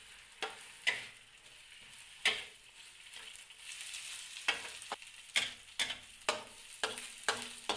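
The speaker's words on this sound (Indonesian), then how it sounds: "Aduk nasi tersebut di dalam wajan hingga merata." A spatula repeatedly scrapes and tosses cooked rice in a hot wok for sweet-spicy fried rice, rhythmic strokes speeding up over a soft continuous sizzle, quiet and close.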